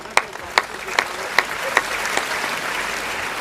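An audience at a Kavi Sammelan poetry event applauds: a few sharp, evenly spaced claps ring out first, then spread into a steady wash of clapping that stays at a moderate level.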